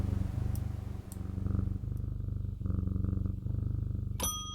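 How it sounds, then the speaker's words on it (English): A cat purrs in the video game Strange Antiquities, a steady, low rhythmic rumble close up, with a faint chime near the end. "Cat."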